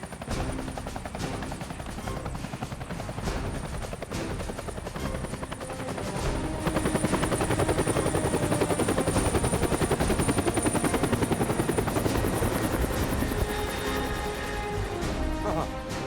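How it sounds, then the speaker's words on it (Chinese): A helicopter's rotor thumps rapidly and steadily close by, growing louder partway through, with faint clatter and distant bangs in the background. "直升机。"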